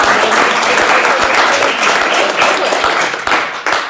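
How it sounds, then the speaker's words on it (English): A conference audience gives a big round of applause for panelists at the end of a writing and publishing session, a loud, dense burst of clapping that stays full before thinning slightly toward the end. "let's have a big round of applause for our panelists"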